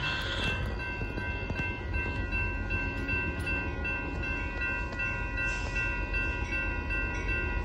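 A northbound Union Pacific grain train passes at a road crossing in Austin, Texas, with a steady rolling rumble of wagons and faint high horn tones carrying through.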